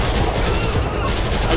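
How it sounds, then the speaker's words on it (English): Gunfire from a Grand Theft Auto gang war, a dense, loud burst of overlapping shots that fills the whole stretch with little break. "Oh, Lamar is shooting."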